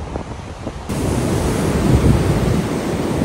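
Ocean surf rolling in at Twilight Beach in Western Australia, a steady broad wash of breaking waves that swells louder after the first second, mixed with wind buffeting the microphone.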